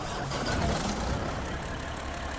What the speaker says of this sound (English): Right, engine's warming up.